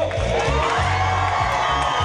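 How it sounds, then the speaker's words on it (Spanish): A dense crowd at a Keiko Fujimori political rally in Pucallpa shouts and cheers continuously, loud and close, with steady pulsing low thumps running beneath the roar. "Un grito para Keiko"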